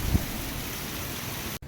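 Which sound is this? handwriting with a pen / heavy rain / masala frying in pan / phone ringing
heavy rain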